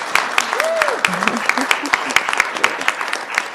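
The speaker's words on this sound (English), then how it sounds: "You can give him a clap." An audience at a university event led by a state governor breaks into steady applause, many hands clapping at once while a voice briefly sounds over it.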